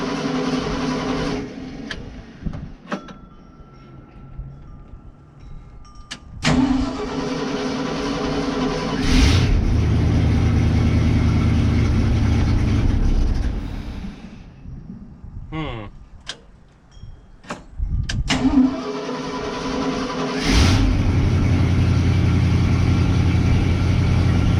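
A 1977 Ford F600 truck engine runs and idles steadily with the choke on, a continuous low mechanical drone lasting throughout, with a few brief knocks and shifts in level.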